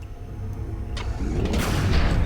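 A deep, rumbling explosion erupts in the turn-based tactics game XCOM: Enemy Unknown, building from low thuds into a broad, roaring blast that swells and lingers.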